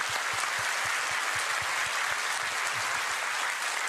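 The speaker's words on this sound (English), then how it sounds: "Let's give them a round of applause." An audience at TennoCon applauds in a dense, even wash of clapping that holds steady for a few seconds, moderately loud and without speech.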